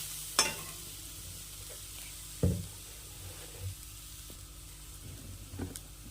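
Date palm jaggery being stirred in a pan: a quiet, close cooking hiss with a few sharp knocks and scrapes of a spoon against the pan, spaced a couple of seconds apart.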